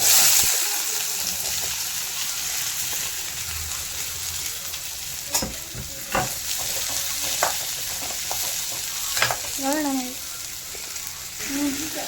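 Onions sizzle steadily in a hot pan as the base for a chicken and green chilli gravy, with a close, continuous frying hiss broken by spoon scrapes and light clinks.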